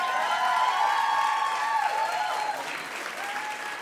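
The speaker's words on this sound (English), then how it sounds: "Let's have a cheer for OPAL." An audience at an OPAL event claps and cheers loudly, a dense sustained wash of applause with scattered shouts that tapers slightly toward the end.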